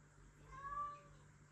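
A pet cat gives one short, faint meow indoors, rising and falling, with no talk around it.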